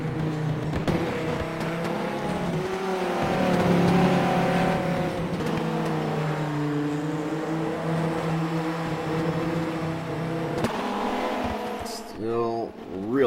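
Viper race car engine in the rFactor racing game, a steady droning whine with shifting pitch that swells and fades as cars run past, continuous over about thirteen seconds and briefly dropping near the end.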